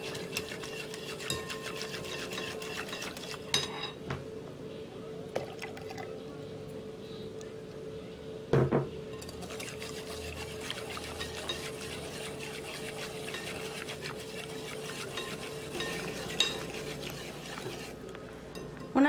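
Fruit cocktail gelatin and milk mixture stirred in a bowl, soft swishing with occasional clinks of the utensil against the side, fairly quiet under a faint steady hum.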